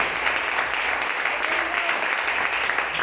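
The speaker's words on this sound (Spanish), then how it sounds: "Fuerte los aplausos para Cristo Jesús." A church congregation bursts into loud, sustained clapping during a sermon, a dense and even roar of many hands that carries on without pause.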